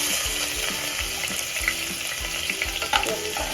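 Half an onion fries in hot oil for chicken chops, a dense continuous sizzle with rhythmic scraping of a spatula stirring the pan, close and without talk.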